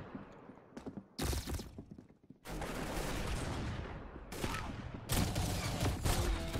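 Shotgun blasts in the video game Arsenal, several loud sharp booming shots in quick irregular bursts with brief gaps between, close and dominant.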